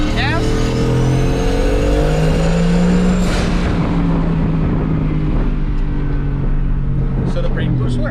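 A turbocharged Ford F150 truck accelerates hard in second gear, its loud engine note climbing steadily up close before easing off, with turbo whine on top and a voice talking briefly over it.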